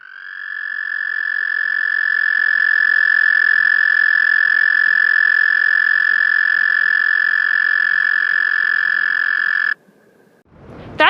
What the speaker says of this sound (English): That's the call of the male toad as he signals the female for mating season.